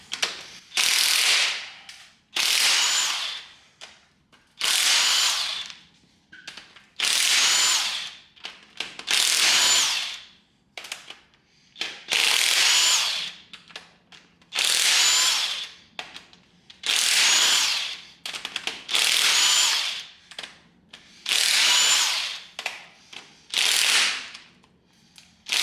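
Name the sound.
loosening LS2 engine head bolts with a ratchet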